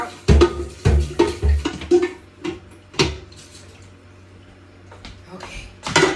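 A large pot rinsed out in a home kitchen before making lasagna sauce: a run of loud metallic clanks and knocks with brief water splashes, a quiet pause, then more clunks near the end.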